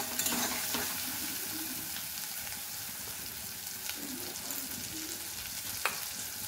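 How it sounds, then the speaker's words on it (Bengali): Potatoes frying and being stirred in spice masala for a prawn and fig curry, a steady close sizzle with scraping stir strokes and no talk. "ভেজে রাখা আলুটা দিয়ে দিলাম।"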